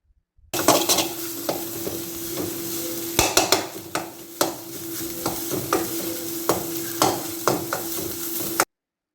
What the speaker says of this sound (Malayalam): അപ്പോൾ മുട്ട ഇതുപോലെ ഫ്രൈ ചെയ്ത് എടുത്തിട്ടുണ്ട്